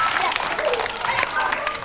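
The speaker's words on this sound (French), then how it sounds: "On les applaudit!" Studio audience on a children's game show applauding the finalist teams, a thick wash of clapping with a few cheers and shouts mixed in, loud and continuous for the whole stretch.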